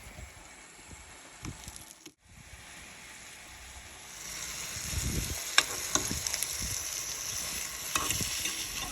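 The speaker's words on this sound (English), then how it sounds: "Don't judge me on how much halloumi cheese I am cooking here." Halloumi cheese frying in a pan in a small microcamper, a soft steady sizzle that grows louder and brighter partway through, with occasional crackles, pops and light scraping, and no talking.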